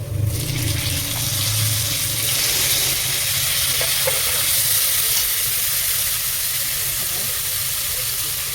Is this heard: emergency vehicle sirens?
no